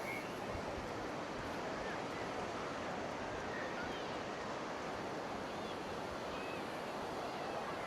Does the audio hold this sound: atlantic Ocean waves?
yes